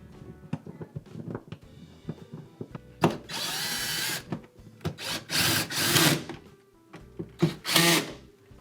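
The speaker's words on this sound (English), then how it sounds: "you can secure the two 3/8 inch screws back into place" A power drill drives 3/8 inch screws into a Frigidaire refrigerator door hinge in several short, close whirring bursts, with a longer run in the middle and faint clicks and handling noises between them.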